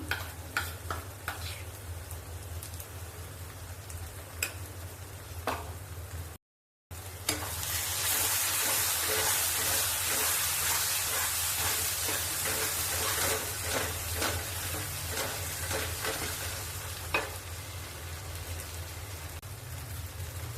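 Young jackfruit curry sautés in a pan with a constant close sizzle and repeated scraping stirs. A brief silent gap comes early, then the frying grows louder and hissier.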